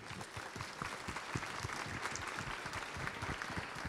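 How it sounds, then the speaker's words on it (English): A conference audience applauds its speakers at an international IP enforcement summit, a dense, steady patter of many hands clapping at moderate distance for the whole stretch, with no talk over it. "A big round of applause for all of our speakers."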